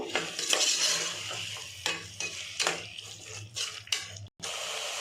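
A utensil scrapes and stirs carrots with salt in a pan for avalakki, soft repeated clinks and scrapes over a faint sizzle, close and fairly quiet.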